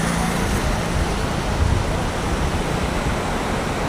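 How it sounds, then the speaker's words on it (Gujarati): Water pours through the open gates of the Shetrunji dam near Palitana in a steady, dense roar, continuous and loud throughout with no pauses. "કારણ કે બધા દરવાજામાંથી પાણી જાય છે આ રીતનું જો."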